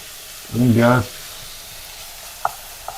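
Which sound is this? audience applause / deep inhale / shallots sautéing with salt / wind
shallots sautéing with salt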